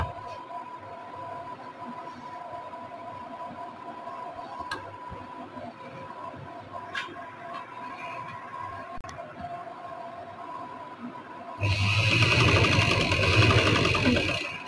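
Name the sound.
sewing machine stitching trouser piping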